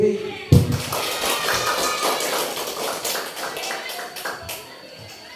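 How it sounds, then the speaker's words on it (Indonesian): Teachers at a school sharing session clap for themselves, a crisp burst of many hands that settles into steady clapping for about five seconds, with some tapping and shuffling. "Kita tepuk tangan untuk diri kita sendiri."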